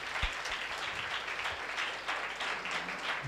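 A church congregation clapping during worship, a steady, fairly faint wash of many hands with a few sharper claps close by, continuing throughout.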